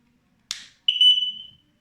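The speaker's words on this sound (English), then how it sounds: "fit the back plate on the back of the smoke detector, which will activate the smoke detector" A short click followed by a single bright, high-pitched electronic beep lasting under a second from a Siterwell GS521 smoke alarm activating, loud and close in an otherwise quiet room.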